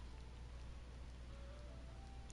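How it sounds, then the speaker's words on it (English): Rain on a very rainy day, a soft, even patter of drops falling steadily over a low background rumble, faint and continuous with no voices. "Well, actually, it's a really rainy day."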